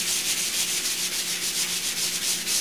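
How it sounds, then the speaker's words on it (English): Sandpaper is worked back and forth across a smooth plywood panel to rough it up before veneer gluing, making a loud, close, steady rhythmic rasp of repeated strokes with no talking. "I'm just going to slightly rough up the plywood surface to help give the glue a little bit better tooth to bond to"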